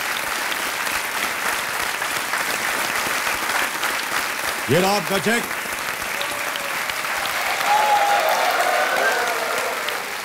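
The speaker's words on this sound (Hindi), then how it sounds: "ताली बजते रहने चाहिए इनके लिए" Studio audience applause on a Hindi television quiz show, steady sustained clapping filling the whole stretch while a host speaks over it.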